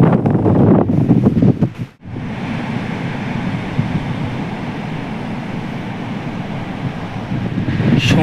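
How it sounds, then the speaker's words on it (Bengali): Strong coastal wind roars and buffets a cyclist's microphone along a seaside road, with the rumble of sea surf underneath. The sound is loud and continuous apart from a brief dropout early on. "সমুদ্রের গর্জন শুনতে শুনতে এগিয়ে যাচ্ছি"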